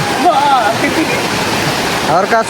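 Rushing water at Didupe waterfall makes a loud, continuous roar close by, with people talking over it.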